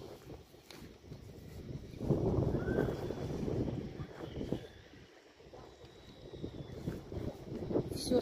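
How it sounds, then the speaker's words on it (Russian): Cold sea wind gusting at the seaside, a steady rushing blow against the microphone that swells stronger midway, dips briefly, then builds again, with no talk over it. "Слышите ветер?"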